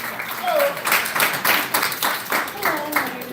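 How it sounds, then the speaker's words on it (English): An audience at a Bed-Stuy, Brooklyn forum for Kings County Civil Court judicial candidates applauds steadily for about three seconds, a dense wash of many hands clapping with a voice briefly cutting through. "Give your hands, clap your hands together, everybody."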